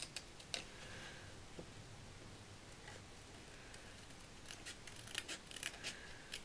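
Scissors snip paper for a handmade shabby-style Mother's Day card, a scattering of quiet, sparse cuts and ticks over a faint background hum, with no talking.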